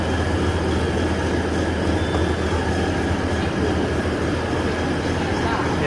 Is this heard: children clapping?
no